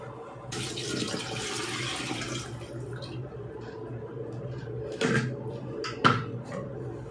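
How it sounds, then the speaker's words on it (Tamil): Tamarind water poured into curry paste in a pan while cooking a Tamil fish curry, a steady close pouring splash lasting a couple of seconds followed by a few short clinks and splashes. "புளி தண்ணியை சேர்த்துருவோம் அதில்."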